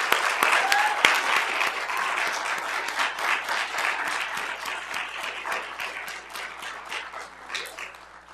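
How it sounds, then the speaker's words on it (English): An audience at a Martin Luther King Jr. program and art contest gives a sustained round of applause, dense clapping that stays strong throughout and tapers slightly toward the end. "Let's give them another round of applause."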